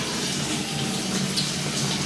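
Water runs steadily into a sewer drain line during a camera inspection at a house, a loud, continuous rushing flow with no talking.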